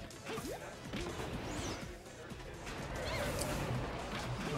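Down smash attacks landing in Project M, a Super Smash Bros. fighting game, with repeated sharp impact smacks and whooshes over busy crowd and commentary noise at a tournament, with voices talking throughout.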